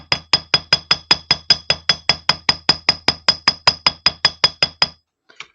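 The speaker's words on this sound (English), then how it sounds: "Give that a hammer and make sure, and that just hardens that bit as well." About twenty-five sharp metallic strikes of a flat hammer on a wire loop in a steady, quick rhythm, close and loud, then a couple of faint taps after a brief pause.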